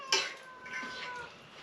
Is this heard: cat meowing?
yes